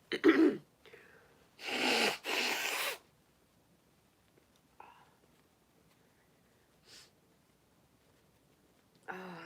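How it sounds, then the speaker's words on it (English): Several loud, broadband nasal blasts in bursts from someone with a cold, with a pair of long honking blows in the middle, followed by quiet stretches and small rustles. "Let me blow my nose again, too."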